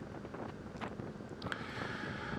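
Wind gusting across the open grassland atop Rowena Crest in Oregon, a steady broadband rush buffeting the microphone, swelling slightly in places, with no voices.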